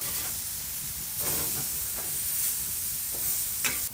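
Steak sizzles on hot oak firewood coals in a smokeless fire pit, a loud, steady hiss and crackle that runs throughout with a few sharper pops, close and without talking.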